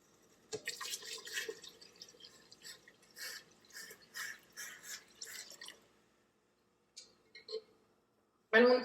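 Water is poured from a small side pot into a larger pot for a seafood boil, giving close splashing bursts over several seconds, then a pause and a few shorter trickles.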